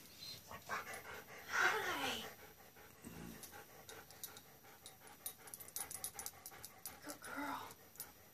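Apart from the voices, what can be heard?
dog panting and whimpering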